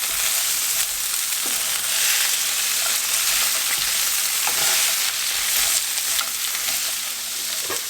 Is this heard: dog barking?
no